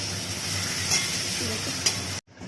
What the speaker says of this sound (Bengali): এখানে আমি পেঁয়াজ রসুন মশলাটা ভেজে নিচ্ছি